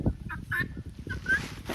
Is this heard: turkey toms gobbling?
yes